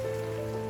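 Steady rain falls around travellers on a rainy road trip in Pangandaran, West Java, a continuous soft hiss with a low droning hum underneath, even and unbroken throughout.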